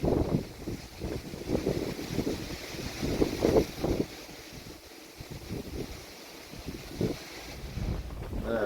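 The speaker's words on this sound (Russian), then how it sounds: "Да, ветер не на шутку разгулялся." Strong hurricane-force wind gusting outdoors in Krasnodar Krai, a loud, uneven roar of buffeting and microphone wind noise that surges and eases in waves throughout, with no voices.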